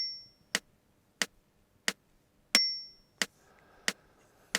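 A metronome clicks at 90 beats per minute, giving sharp, evenly spaced ticks. A short higher beep sounds with the first click of each four-beat bar, and the ticks ring alone over near silence.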